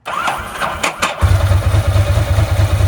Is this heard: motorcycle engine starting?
yes